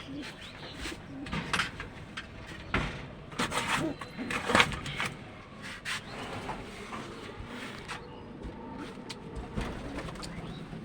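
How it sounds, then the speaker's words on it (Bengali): Pigeons coo from a backyard loft as they are let out one at a time, including a checker pigeon. Low, soft cooing repeats close by, mixed with scattered rustling and wing knocks against wood. "গাইস, ওই যে একটা কবুতর বের হলো আমার বাড়ির চেকার।"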